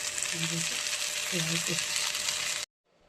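Hot oil fizzes loudly in a pan ready for fish roe fritters, a steady close sizzle with a voice talking over it before the sound cuts off abruptly.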